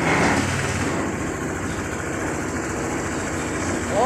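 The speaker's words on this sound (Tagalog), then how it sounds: "Pero yung sound check natin, maganda yung tunog ng makina." A steady, low mechanical rumble of a QJ Motors ATR 160 motorcycle engine idling close by, with a faint ticking chatter running through it.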